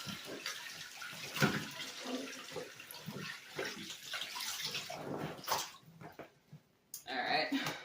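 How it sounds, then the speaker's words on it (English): Water draining and sloshing out of a tub after hand-washing clothes, an uneven gurgling wash of noise with a few louder splashes and a brief quiet gap near the end. "we're gonna go ahead and drain this"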